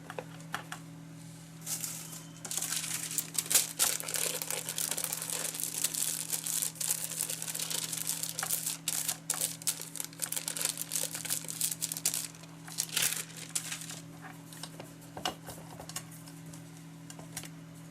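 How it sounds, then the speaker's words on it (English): Paper covers being folded up, giving a steady run of dry crinkling and crisp rustles that stay close and fairly loud, with a low steady hum underneath and no talking. "fold up these covers."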